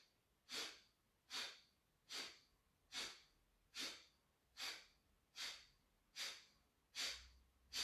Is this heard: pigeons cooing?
no